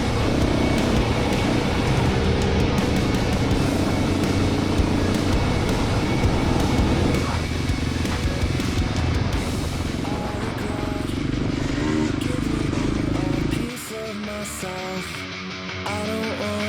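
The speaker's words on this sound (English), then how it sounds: "Riding past Wanangata Station, the 5-bike convoy are on their way up to the iconic Lovick's Hut." Dirt bikes in a five-bike convoy ride past a high-country station in Victoria, their engines droning loud and close before dropping away abruptly near the end as the pack moves off.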